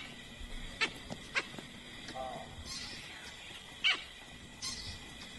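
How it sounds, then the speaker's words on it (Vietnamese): Baboons give scattered, sharp barking calls in the wild. A few brief calls stand out at a distance over a faint, steady background. "Những tiếng kêu của lũ khỉ đầu chó"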